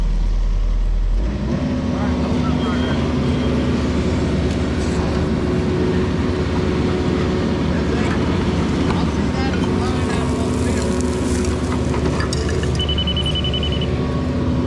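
A Yanmar mini excavator engine runs steadily while digging utility trenches at a homestead, a close, continuous mechanical rumble with a constant hum that lasts the whole time, unbroken.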